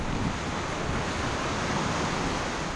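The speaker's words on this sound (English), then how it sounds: "Mule Creek Canyon, the water is rushing through there so quickly" River water rushes through turbulent Mule Creek Canyon, cut through basalt in Oregon's Cascade Mountains, as a loud, steady broadband roar that fills the whole clip with no talk.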